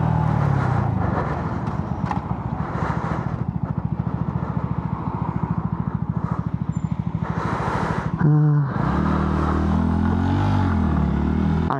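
A 125cc motorcycle ridden through traffic, its small engine pulsing in a steady rapid beat that rises and falls, close and loud, with a brief break near the end before the engine note picks up again.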